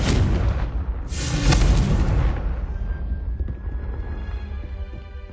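The Confringo fire spell in Hogwarts Legacy bursts with a loud, booming explosion followed by a second blast, then fades into a rumbling, crackling decay.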